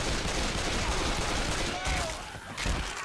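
Gunfire from the video game Left 4 Dead 2 rattles in a dense, steady stream, loud and close, with talk mixed in beneath the shooting.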